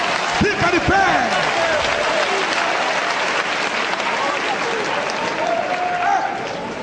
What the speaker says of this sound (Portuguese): Aplauda ele, aplauda ele.